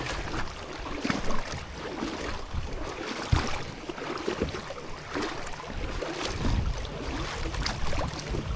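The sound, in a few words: NuCanoe Unlimited kayak moving through shallow river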